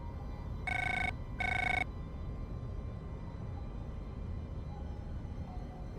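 A phone in the video game Beast of Reincarnation rings twice, two short electronic trills separated by a brief pause, then a quiet low background hum continues with no ringing.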